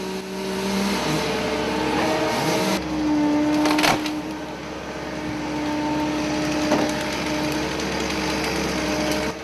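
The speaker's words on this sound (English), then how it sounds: "The Lumberjack LJ450 offers a versatile combination of cutting and grading capabilities" Lumberjack LJ450 forestry machine cutting logs, a steady loud mechanical drone with a harsh, rattling cutting texture throughout, brief surges as the load changes, no voices.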